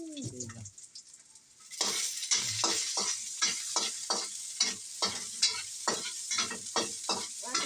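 Onion and garlic sauté in a pan with a steady sizzle, while a utensil scrapes and stirs in a quick, regular rhythm of close clinks after a brief quieter opening.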